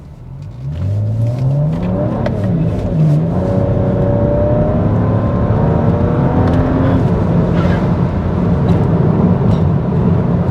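A stage 2 tuned BMW 335i E92 coupe, about 420 bhp, pulls hard from first gear. The engine note climbs steadily through several gearchanges, loud, close and continuous, with no talking.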